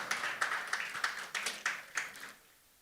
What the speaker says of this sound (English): Please, let's keep on clapping.